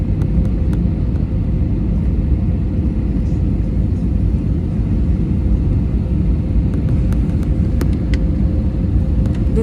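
Steady, loud cabin rumble of an airliner landing at Jolly Grant Airport in Dehradun, a dense low engine and airframe roar running continuously throughout with faint scattered clicks above it and no voices.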